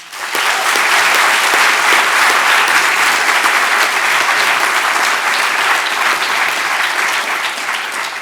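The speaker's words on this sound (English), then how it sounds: "I do accept that applause personally" Steady, loud applause from an audience at an exoneree showcase event, sustained and even throughout with no speech over it.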